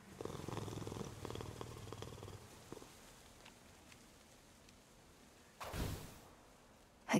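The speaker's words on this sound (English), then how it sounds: "Oh, the cat." A cat in the game Hades II purrs softly in a low rumble for a few seconds, then fades, and a brief louder thump follows near the end.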